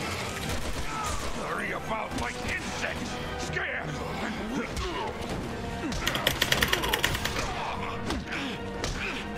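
Video game gunfire in Resident Evil 6, dense rapid shots and impacts layered over game effects and music, with a quick run of sharp bursts in the middle, loud and continuous.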